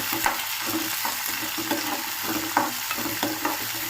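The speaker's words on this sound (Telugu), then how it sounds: "ఇప్పుడు ఇందులో కట్ చేసి పెట్టుకున్న ఆనియన్స్ వేసుకుందాము కరివేపాకు అండ్ ఎండుమిర్చి వేశాను కొంచెం వేగాలి" Sliced onions, curry leaves and dried red chillies fry in a pan, a dense, steady sizzle close by, broken by light scrapes and taps of stirring.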